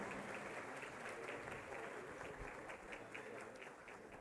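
An audience at a Lenten retreat round-table session applauds, a dense, sustained wash of many hands clapping at close range that holds steady and tapers slightly at the end.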